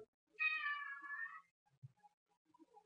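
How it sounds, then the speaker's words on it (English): An indoor house cat gives a single clear meow, close and distinct, lasting about a second, followed by faint small room sounds and near silence. "Cat seems to approve."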